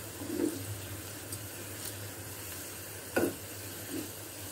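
Onions frying in a pan are stirred gently over medium heat while cooking urad dal, giving a steady low sizzle with a few faint scraping strokes of the spoon and no talking.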